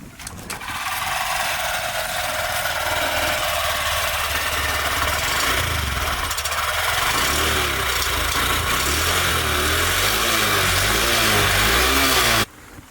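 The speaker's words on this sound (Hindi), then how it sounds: "कोई खिटर पिटर की आवाज़ है नहीं गाड़ी के इंजन में, आप देख सकते हो" A Honda SP 125 BS6 motorcycle engine idles steadily up close, a continuous even hum with a low rhythmic pulse, running alone without talk until it cuts off near the end.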